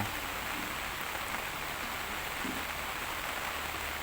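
Steady, soft hiss of rain falling in Luang Prabang, Laos, continuous and even with no breaks, heard faintly in the background.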